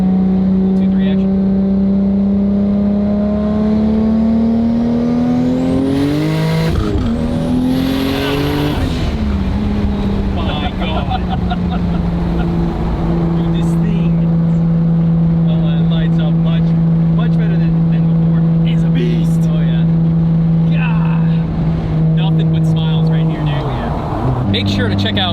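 An 800-horsepower 2JZ-swapped Nissan 240SX with a T56 six-speed manual pulls hard through the gears. A loud, close engine note climbs, breaks briefly at a shift, then holds a steady drone before easing off near the end.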